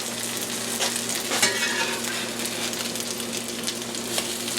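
Zucchini garden burgers fry and brown in a hot pan, giving a steady, dense sizzle with light crackle throughout, close and alone with no talking.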